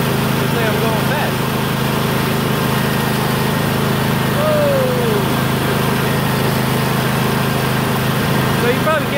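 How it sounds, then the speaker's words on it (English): A lawnmower engine runs steadily and loudly, close by and without a break, with a person's voice faintly heard now and then under the drone. "I'm bringing this lawnmower back now"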